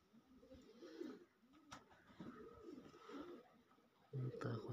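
Pigeons coo in low repeated rolling calls inside a dovecote after winter, fairly quiet and close, with a voice speaking at times.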